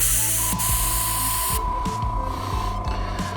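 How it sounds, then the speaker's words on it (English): An airbrush sprays paint onto an aircraft fuselage during theming work, giving a steady close hiss that holds for about a second and a half before easing off, with a low mechanical hum beneath it. "it's very subtle airbrush. You can just put the tiniest amounts in."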